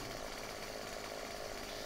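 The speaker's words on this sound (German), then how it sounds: "So, Kettensäge. Auch eine sehr gute Waffe gegen Zombies." Chainsaw felling trees in the zombie survival game 7 Days to Die: a steady, dense buzzing drone that runs without a break throughout, fairly quiet in the mix with no talk over it.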